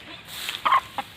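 A hen leading a brood of ducklings around a farmyard gives a few short, close clucks over faint background noise.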